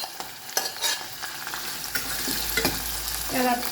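Capsicum frying in a hot steel pan for a paneer curry, a steady close sizzle with scraping stirs and a few sharp clinks of the spatula, no talking.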